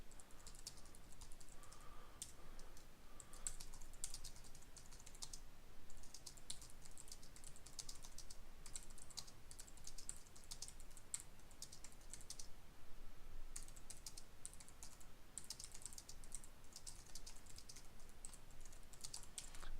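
Steady typing on a computer keyboard while logging notes about a customer call, with continuous fast key clicks running unbroken throughout at moderate level, with no speech.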